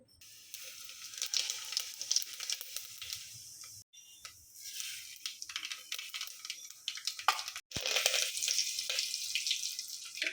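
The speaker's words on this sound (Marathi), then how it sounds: "चला तर मग आता आपण चकुल्यांना ना फोडणी देऊया." Spices tempering in hot oil for chakulya, Maharashtrian dal dumplings: a bright crackling sizzle that swells and fades in bursts, with brief gaps and a louder burst of spitting toward the end, no voices.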